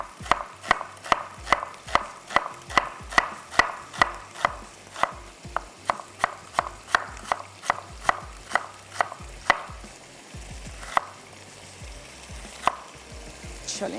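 A knife cuts half of a large onion into slices on a board, about two dozen crisp, evenly spaced chops close by that slow and thin out toward the end, with no talking.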